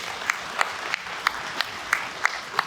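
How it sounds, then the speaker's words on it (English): Scattered applause from a university convocation audience with sharp individual claps, fairly faint and spread across the hall, with no talk over it. "Give her a round of applause."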